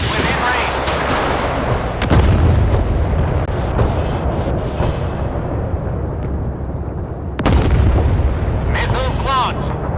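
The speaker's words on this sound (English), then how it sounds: "Missile launch at target." Warship missile launch in the naval combat game Force of Warships, aboard the Russian cruiser Pyotr Velikiy: loud, dense roaring blasts with sudden sharp bursts, continuous and close, over a busy game mix.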